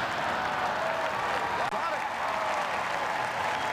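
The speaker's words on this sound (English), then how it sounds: "I bet you never thought Hillary would get an applause at this convention." A large political convention audience applauding, dense sustained clapping from a big crowd that stays steady and loud throughout.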